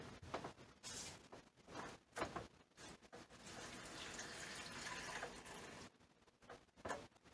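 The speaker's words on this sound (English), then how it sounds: "see where it says max liquid and pour liquid up to there." Water poured into a blender jug up to the max liquid line for a DIY seed paper craft, a quiet splashing stream with intermittent trickles and pauses.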